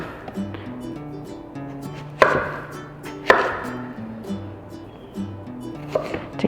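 A knife cuts squash lengthwise into strips on a cutting board, sharp irregular chops and taps over a sustained musical background.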